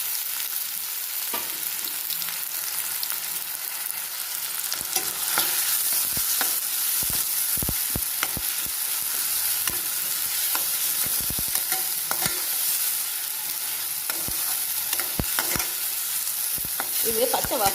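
Onion masala paste sautéing in a pan for a paneer masala gravy: continuous hissing sizzle with repeated scraping and clinking of a spoon stirring, no voices.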